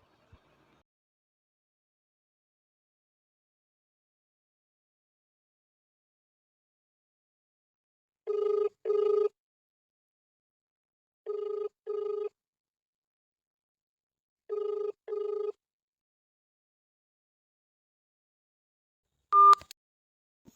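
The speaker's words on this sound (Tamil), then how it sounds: "சரி ஃபோன் பண்ணி பார்ப்போம்." A telephone rings during a call, giving three double-burst ringback tones at steady intervals against silence. A short extra beep follows.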